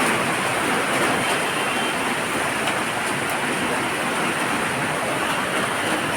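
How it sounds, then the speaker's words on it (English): Rain falls in Mumbai as a dense, continuous hiss of drops hitting surfaces. The wash of sound stays steady and fairly loud for the whole six seconds, with no voices. "And over here, it is still raining."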